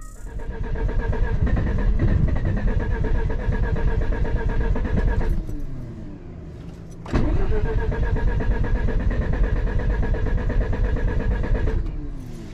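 A Mazda RX-7 beater drift car cranks repeatedly with a flooded engine, a loud rhythmic starter whir that pauses briefly midway and then resumes without catching.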